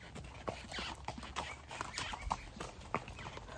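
Horse hooves clip-clop steadily at a walk on a trail through a Costa Rican rainforest, close and moderately loud, with irregular repeated strikes.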